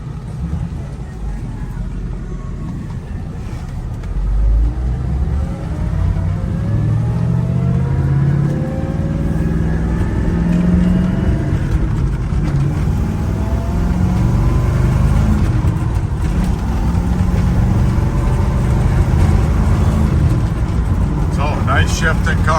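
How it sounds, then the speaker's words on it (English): A 1966 Chevrolet El Camino being driven: a close, steady engine drone whose pitch climbs and drops through several gear shifts, with a low rumble underneath throughout. "Nice shifting car, nice driving car."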